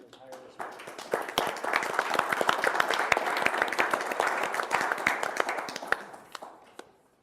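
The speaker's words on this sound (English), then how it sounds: "would you join me and give these folks a round of applause for their tireless work" Audience at a Board of Supervisors meeting breaks into steady applause, many hands clapping densely for several seconds before it thins out and stops, with some voices mixed in.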